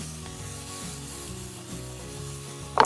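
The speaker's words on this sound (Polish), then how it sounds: "Chwilę zamieszam." Zucchini being stirred in a frying pan among other vegetables for ratatouille: a soft scraping and rubbing over a low sizzle, ending with a sharper clatter of utensil against the pan.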